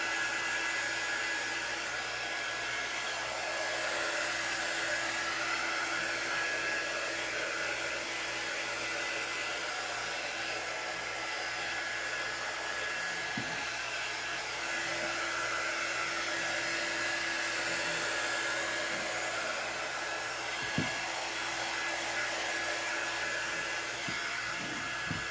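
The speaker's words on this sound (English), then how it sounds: "I might go ahead and take a sandpaper to it as well." Steady, continuous power-sander hum with a broad hiss of abrasion while sanding a thrifted wooden cutting board, close and even in loudness, with a few faint knocks and no talking.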